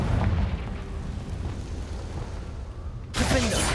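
Confringo blasting spell in Hogwarts Legacy, a heavy rumbling boom that rolls on for a few seconds, then a fresh sharp burst of blast noise near the end.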